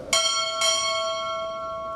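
A ship's bell struck twice at a U.S. Navy chief petty officer pinning ceremony, two clear metallic clangs about half a second apart whose ringing overtones linger and fade slowly.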